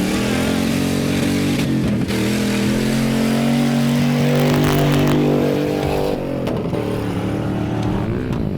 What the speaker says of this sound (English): you can hear the engines roaring